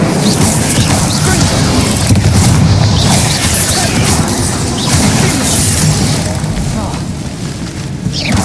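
Fire and blast spells, Confringo and Incendio, go off in the Hogwarts Legacy video game as a dense run of booming, crackling explosions with a continuous loud roar.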